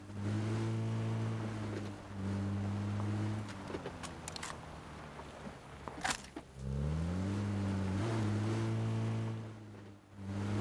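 Motorcycle engine in PUBG, a droning harmonic engine tone that holds steady, fades out mid-clip amid scattered clicks and a sharp crack, then revs back up with rising pitch; fairly close, no talk.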